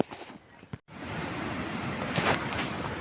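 A swollen, flooded mountain stream rushes in a steady broadband roar close by, continuous and loud after a brief dip near the start.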